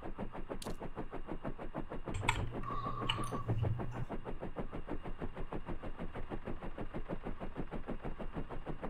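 Steady rhythmic automatic gunfire rattles on without pause in an Arma 3 Altis Life shootout, fairly quiet and even, with a brief tonal blip partway through.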